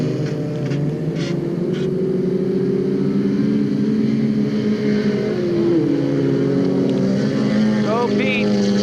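Race cars, including a Honda and a Volvo, drone steadily on an ice racing course in 1998, a sustained engine hum with shifting pitch. A faint high squeal comes near the end.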